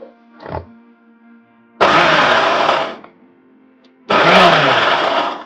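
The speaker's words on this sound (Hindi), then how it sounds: "अब हमें ये बेसन की भुजिया जो है उसको भी दरदरा पीसना है।" Mixer grinder coarsely grinding besan bhujia on pulse mode, two loud whirring bursts of roughly a second each separated by a pause, close and harsh, preceded by a brief clunk.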